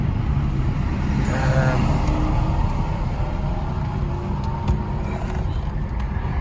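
A used car engine runs steadily with a low, even rumble that stays constant throughout, close by and unbroken, with no speech over it.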